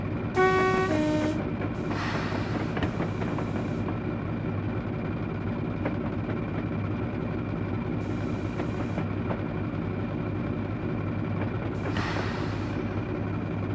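A diesel train arrives at a station in Train Simulator Classic on the Spa Valley Railway. A short two-tone horn toot opens, then a steady engine drone and rumble holds throughout, with brief hissing bursts.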